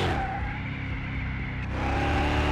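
Tires skid in Car Mechanic Simulator 2021 as the rear of the car breaks loose under full throttle. A loud, steady engine roar blends with a sustained screech that eases briefly and then swells again, with no talk over it.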